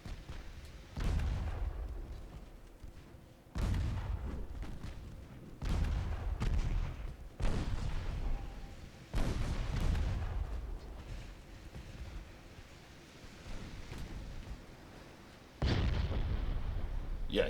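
A heavy cruiser's 6.7-inch naval guns in a warship game boom out in a series of deep, heavy blasts, about seven loud salvos spaced unevenly, each with a rumbling tail.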